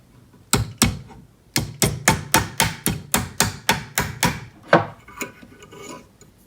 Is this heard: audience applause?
no